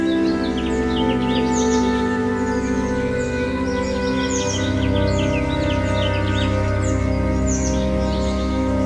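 A flock of brightly colored parrots calling in a wild forest, with many overlapping chirps and squawks over a steady, loud background drone that runs throughout.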